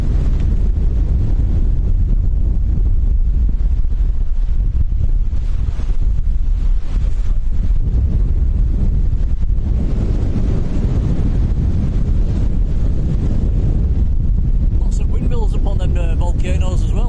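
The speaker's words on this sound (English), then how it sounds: "It's always windy." Strong, steady wind buffets the microphone along the Lanzarote coast, a continuous low roar with surf and sea in the background and yachts offshore, running unbroken for the whole stretch with a brief voice near the end.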